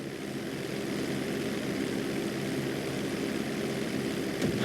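A propeller plane drones steadily and loudly in GTA V during flight school practice for an emergency landing on a bridge, with a constant engine hum throughout and a brief swell near the end.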